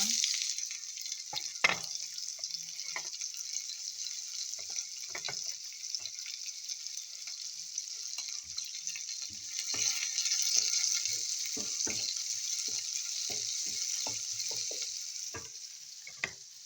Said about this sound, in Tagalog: Let's start saute now.